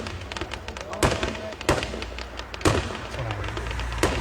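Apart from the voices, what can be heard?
fireworks display exploding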